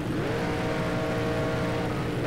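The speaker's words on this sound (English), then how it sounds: "let's get all that power loaded into our 5-liter V8. Prepare to dump that in the back wheels to get off to the line pretty quick here" A Ford Mustang GT with a 5-liter V8 accelerates hard off the line, its engine a loud, continuous roar with a rising tone, heard alone without speech.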